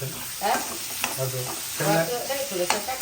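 Bottle gourd frying in hot oil gives a continuous sizzle, with spatula stirring scrapes and soft clatters at close range.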